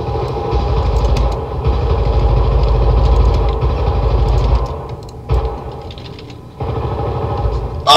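Enemy gunfire in the shooter Syndicate: sustained, dense rapid-fire bursts with a mechanical rattle, loud and continuous, breaking off briefly before resuming.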